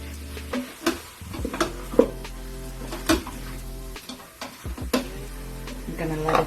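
Lamb sautes in a pot with flour and a little water, giving a soft sizzle under repeated stirring scrapes and light clinks of the spoon against the pot.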